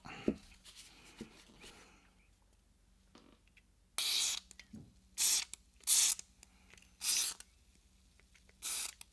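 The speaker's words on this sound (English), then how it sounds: "the first step in this operation is to saturate the various parts in the cleaner, in my Balisol" Ballistol cleaner sprayed from a can onto Sig P365 pistol parts, a handful of short separate hissing bursts close by after a few quiet taps and handling noises.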